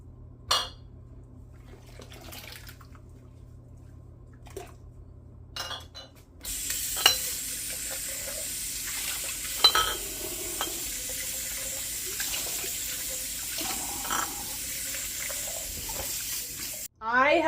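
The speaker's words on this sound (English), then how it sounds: "I'm gonna show you guys some jar washing" Running tap water pours steadily into a sink as used glass canning jars are washed, starting after a quiet stretch with scattered clinks, then a continuous close splash and hiss with occasional knocks of glass.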